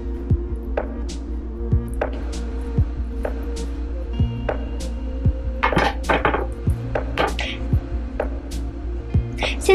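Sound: cutting the fat off a chicken

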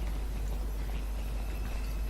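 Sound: pig running in the video game DreadOut

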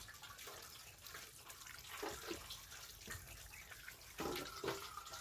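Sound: tap water running to wash mangoes

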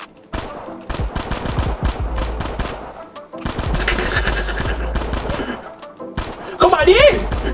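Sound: gunfire in a Squid Game video game

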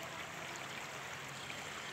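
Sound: river water flowing

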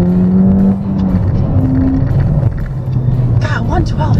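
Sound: Ford Fiesta ST driven hard on a race track

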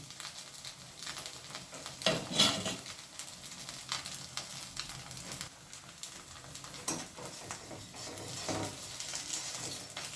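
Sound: fenugreek appam frying crisp in sesame oil

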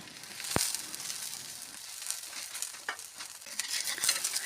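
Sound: aloo paratha frying in oil on a hot tawa

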